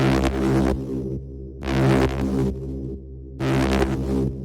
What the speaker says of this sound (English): The next sound we got going on here is this bass,